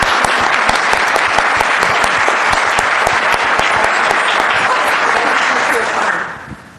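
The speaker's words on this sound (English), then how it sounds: "I'd just like to give a round of applause for these ladies." A dense, loud round of applause from an audience after a panel talk, steady crackling claps filling the room for several seconds before tapering off at the end.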